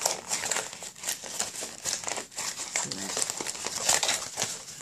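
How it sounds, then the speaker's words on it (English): Aluminum foil crumpled by hand into texture during a craft project, giving a steady stream of close, crisp crinkling and crackling that continues throughout with no speech. "I'm going to crumple this up just a little bit because I want it to give it some more"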